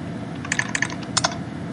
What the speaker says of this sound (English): Did a lot of typing to get there.